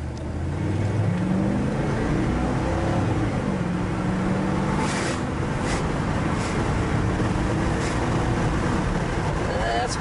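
A 1987 GMC Sierra 1500 pickup truck accelerates along a busy road, its engine droning steadily with rising rumble and broadband road and wind noise throughout, heard from inside the cab.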